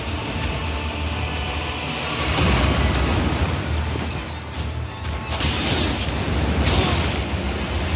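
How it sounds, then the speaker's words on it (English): Heavy, booming crashes from the boss Godrick the Grafted slamming the ground in Elden Ring, with sustained rumbling impact noise and a couple of louder surges, dense and continuous throughout. "So stay away from him when he does the ground slam attacks so you don't get hit by his area of effect attack."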